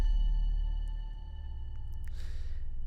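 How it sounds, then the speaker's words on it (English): Distorted bells in a horror film score, a sustained, gritty metallic drone with steady ringing overtones and a brief noisy swell near the end, alone without voices. "those are just bells that I ran through Distortion"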